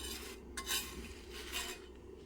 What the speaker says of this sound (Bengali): রুটিগুলোকে আমি খুন্তি দিয়ে চিপে চিপে সেঁকে নেব।